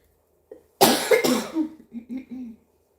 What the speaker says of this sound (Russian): Пока не откашлюсь.